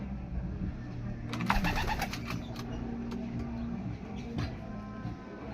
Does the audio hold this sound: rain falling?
no